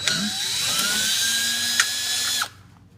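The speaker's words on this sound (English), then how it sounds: "And I already have my drill set up with a socket on there." A cordless drill fitted with a socket whines steadily for about two and a half seconds while backing out long screws during an AC compressor replacement on a Lincoln LS V8, then cuts off abruptly; close and loud.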